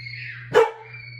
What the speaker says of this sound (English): Sounds like the dog wants out.